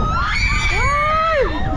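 Visitors on a thrill ride at the Mall of Asia shriek loudly together, several high rising and falling screams overlapping above a noisy crowd roar.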